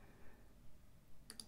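A computer mouse gives a quick double click, two sharp, close, quiet clicks near the end after near silence.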